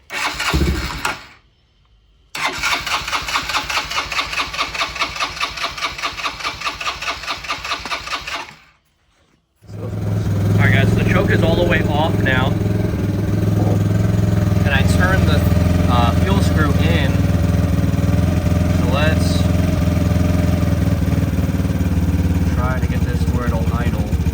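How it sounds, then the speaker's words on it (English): A Yamaha Raptor 90 ATV engine, just fitted with a replacement aftermarket carburetor and with the choke on, cranks twice with brief pauses. It then catches and settles into a steady, loud idle with some talk over it. "So let's try and start it now."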